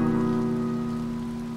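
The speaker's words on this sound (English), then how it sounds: "Wait, in the rain? Yes, in the rain." Steady rain from the video game To the Moon, a continuous even patter over a low droning tone, loud and close with no voices.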